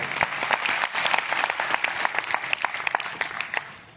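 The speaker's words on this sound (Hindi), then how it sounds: "एक बार अपने लिए अगेन जोरदार ताली बनती है, जोरदार" A seminar audience bursts into loud, dense applause, with many hands clapping together in a steady roar and a few sharper claps poking through. It tapers slightly toward the end.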